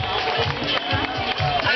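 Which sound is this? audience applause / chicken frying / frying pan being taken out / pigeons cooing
audience applause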